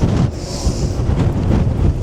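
Strong wind at the Christ statue in Lisbon, Portugal buffets the microphone in a steady, loud roar with gusty swells, no voices present.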